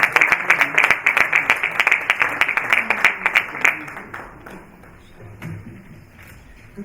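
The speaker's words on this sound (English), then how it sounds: "Big round of applause, please." At a Commonwealth Africa summit, an audience claps loudly to welcome a keynote speaker to the stage; the applause is dense and rhythmic at first, then thins out and fades to near silence.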